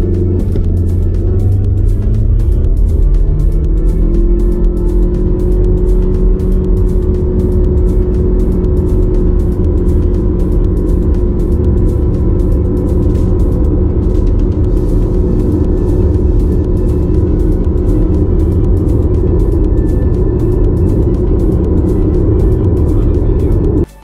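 A Chevrolet Captiva Turbo accelerating on the highway, its engine note rising steadily as revs climb, a loud, sustained drone with road rumble and no talk over it.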